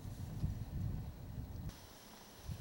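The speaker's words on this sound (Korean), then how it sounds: "바람소리는 오후보다 조금 잦아든 듯 하지만 그치지는 않는다." Wind blowing steadily at a freshwater fishing pond, a soft, low rumbling rush that stays continuous and faint throughout, with a slight gust near the start and no voices.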